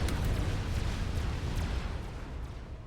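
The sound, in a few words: artillery explosions from Fat Boy units, Supreme Commander video game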